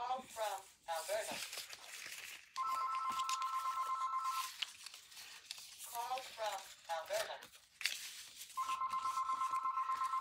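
A landline telephone rings in two long electronic bursts, each a steady warbling trill lasting about two seconds, heard indoors between stretches of someone talking nearby.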